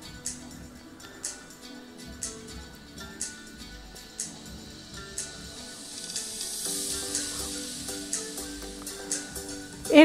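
Melted ghee, about five tablespoons, pours into a pot for mutton kacchi biryani, bringing a soft hiss and sizzle that swells in the second half, with scattered light clinks of utensils.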